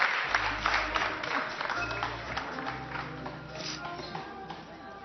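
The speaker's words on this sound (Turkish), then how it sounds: "Alkışlarınız hiç durmasın." A studio audience at a live televised henna night claps continuously with a dense patter of applause, under loud, droning low music notes and some crowd noise.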